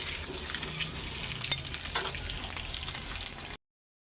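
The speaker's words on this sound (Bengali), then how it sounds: "তরকারিটা ময় মশলা দিয়ে কষাইতে দিয়ে দিছি, এখানে গরম মশলাও দিছি, এলাচ, তারপরে দারচিনি, তেজপাতা।" Curry sautés in hot oil with garam masala, cardamom, cinnamon and bay leaf, a close, steady hiss and sizzle with soft stirring scrapes that cuts off abruptly.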